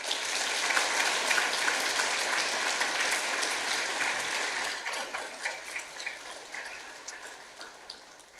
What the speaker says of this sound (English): I want to specifically ask for a round of applause for Cameron, our piper